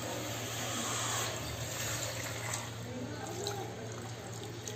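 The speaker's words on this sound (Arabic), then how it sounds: "وهحط لها المية." Water pours into a pan of rabbit pieces and potatoes topped with a frozen cube of tomato sauce, a soft, steady splashing fill over a low background hum.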